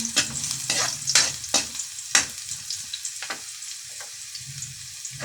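Garlic stirred and fried in a pan, a steady sizzle broken by sharp scraping strokes of the spatula every second or so, close and loud with no voices.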